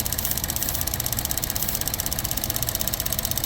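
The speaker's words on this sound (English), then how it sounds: "the engine changed its tone" A car engine idles roughly because of a faulty valve cover, a steady, close, dense running noise with a fast, faintly uneven pulsing throughout and no talking.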